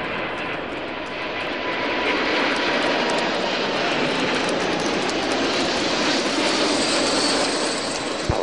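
A Boeing 747-8F cargo jet roars close and loud as it takes off and climbs on a test flight, a dense, unbroken jet-engine rumble that holds steady for the whole stretch.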